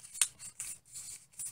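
Scissors snipping through tough paper, a few short crisp cuts at close range, quiet and sharp, with no voices.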